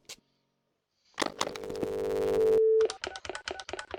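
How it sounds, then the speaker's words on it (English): A telephone call in the Gabriel Knight 3 adventure game: a few clicks and taps, then a steady, clear dial tone that swells for over a second before ending in a quick run of clicking beeps. "Let's make that phone call, Gabe."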